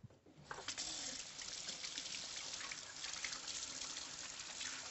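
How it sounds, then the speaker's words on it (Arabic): Running tap water pours steadily while hands are washed in a home kitchen, a close, continuous hissing splash with no talk. "نغسل يدي ونرجع لك."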